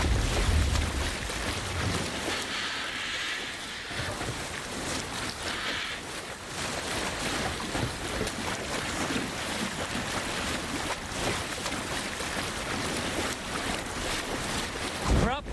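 A sailing ship moves across open sea in Assassin's Creed Valhalla: rushing wind and washing waves with creaking hull noise, steady and fairly loud, joined by a low burst at the start.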